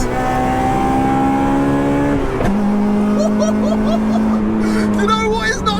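A Honda Integra Type R DC2 engine with VTEC revs hard in second gear toward 9,500 RPM, a loud rising howl that cuts briefly at a shift, then climbs again.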